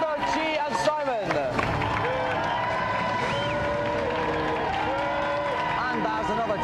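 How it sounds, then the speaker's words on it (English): A game-show studio audience claps and cheers loudly and continuously for a winner, with whoops and crowd noise rising over the applause. "round of applause for our golden joystick winner, Alistair."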